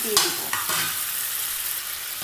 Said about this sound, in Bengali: এখন আমি এগুলো একটু নেড়ে নিব।